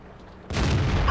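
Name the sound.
tank cannon shot in the video game World of Tanks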